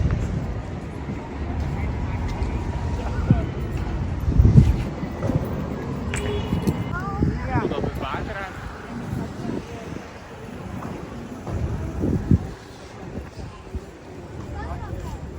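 Strong wind gusting into the microphone during a walk through a European city, with a steady low rumble and buffeting throughout, briefly stronger near the middle, while someone talks over it.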